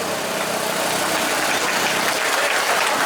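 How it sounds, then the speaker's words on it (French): Steady crowd applause at a Scrabble tournament final, a dense broadband wash of clapping held at even loudness throughout, with a low rumble beneath. "Merci pour vos applaudissements."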